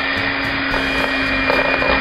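A whisk beating carrot cake wet ingredients of sugar and vegetable extract in a bowl, a steady continuous whirring churn close up.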